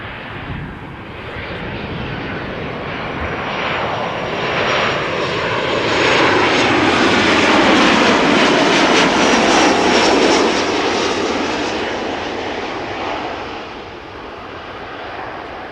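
A Boeing 737-800 arriving at Amsterdam Schiphol Airport roars in loud and close, its jet engine noise swelling to a peak as it passes and then easing off while staying strong to the end.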